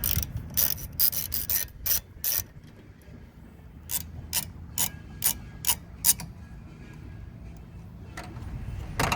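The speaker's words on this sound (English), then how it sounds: "Unscrew the nuts with a 15mm socket." Ratchet with a 15mm socket loosening the front wiper arm nuts on a Chevrolet Sonic, giving bursts of quick metallic clicking in several separate runs at close range, with no talk.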